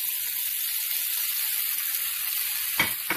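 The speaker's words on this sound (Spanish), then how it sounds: "aquí la cebolla ya se está empezando a dorar" Onion fries in a pan, browning for tacos gobernador, producing a steady close hiss of sizzling oil with a couple of louder stirring scrapes near the end and no voices.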